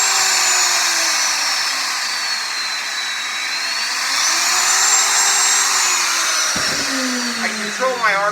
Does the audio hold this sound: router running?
yes